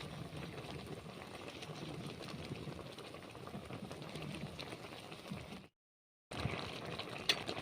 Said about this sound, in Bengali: জলটা দেওয়ার পরে তরকারিটা আমি দু থেকে তিন মিনিট ফুটিয়ে নেব